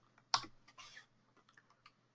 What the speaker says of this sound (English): once I press the enter key